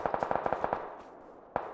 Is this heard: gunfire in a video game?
yes